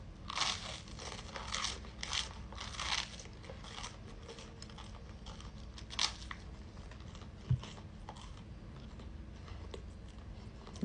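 Toast being eaten at breakfast, with faint, close crunches recurring in irregular bites over a low, steady room hiss.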